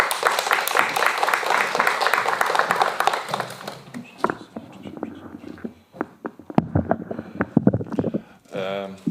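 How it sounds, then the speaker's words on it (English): An audience at a journalism education conference claps densely for about four seconds. The clapping then thins out and gives way to a voice speaking into a microphone. "So please give him applause."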